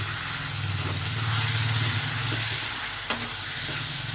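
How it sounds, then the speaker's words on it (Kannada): Tomato and ginger hitting a hot frying pan for capsicum rice, a steady close sizzle with stirring scrapes and a sharp clink of the spatula against the pan. "ಈಗ ನಾನು ಟೊಮೆಟೊನ ಹಾಕ್ಕೊಳ್ತೀನಿ. ಟೊಮೆಟೊ ಹಾಕ್ಕೊಂಡಾಗ ಶುಂಠಿ ಕೂಡ ಇವಾಗಲೇ ಹಾಕ್ಕೊಳ್ತೀನಿ."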